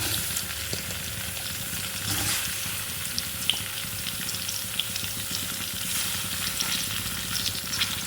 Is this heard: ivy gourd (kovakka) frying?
yes